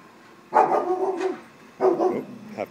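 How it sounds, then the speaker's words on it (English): A dog indoors gives two loud, close barks about a second apart, with nothing else heard around them. "Have to excuse my dog."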